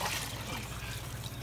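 Water trickles in a home kitchen, a soft, steady stream heard briefly and fairly faintly with no voices.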